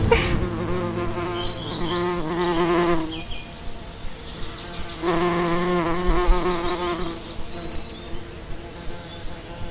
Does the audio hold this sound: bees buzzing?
yes